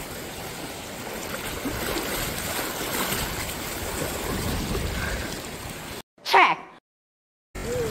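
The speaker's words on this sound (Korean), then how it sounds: "파도 세니까." Strong waves wash and rumble steadily against the shore during low-tide foraging in muddy water. The roar is continuous and close, then drops out abruptly near the end with a brief murmur of voices.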